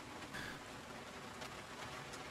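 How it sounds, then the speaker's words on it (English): Steady rain patter in a survival video game on a rainy morning, a soft continuous hiss of falling drops with no talking. "Oh great, it's a rainy morning."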